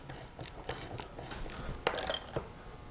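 A tap threading a hole, turned on a T-handle socket while building a drag race Powerglide transmission, gives faint, quiet ratcheting clicks in an uneven rhythm, with a few sharper clicks near the end.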